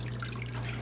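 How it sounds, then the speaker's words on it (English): Bone broth drips from strained bones in a kitchen, heard as a soft continuous trickle and patter of liquid over a steady low hum, alone and without talk. "I'm going to let that drip for just a minute."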